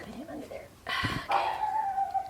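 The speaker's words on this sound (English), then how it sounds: "Quiet, dogs." Dogs bark and whimper nearby during the whelping of a chocolate Shih Tzu's puppies. Short yaps and a drawn-out whine come under people talking.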